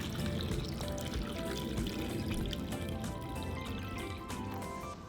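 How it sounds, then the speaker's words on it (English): Water pours steadily into a pot of cubed potatoes, a continuous close rushing and splashing flow that holds level throughout without a break. "now we're just going to cover them with water"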